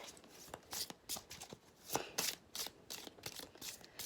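Tarot oracle cards riffled and shuffled in quick rustling bursts, a series of crisp papery flutters with short pauses between them, close and fairly quiet, no talking.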